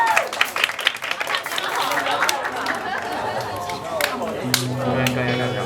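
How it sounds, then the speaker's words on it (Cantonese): An audience at a cultural night gives scattered clapping and cheering for a performer, mixed with crowd chatter and talking, before a tone begins to sound toward the end. "我哋俾啲掌聲佢。"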